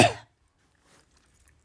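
A single short cough bursts out close up, followed by near silence with only faint rustles.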